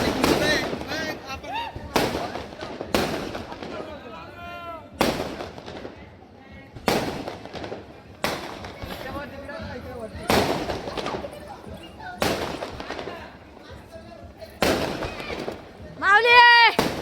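Firecrackers burst at a village Republic Day celebration, with sharp loud cracks every second or so, some in quick clusters, over crowd noise and shouting.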